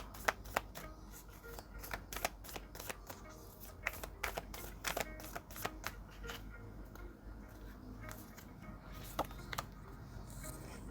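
Oracle cards shuffled by hand at close range: a continuous run of crisp riffling flicks and soft slaps in an irregular but steady rhythm, fairly quiet and alone without any talking.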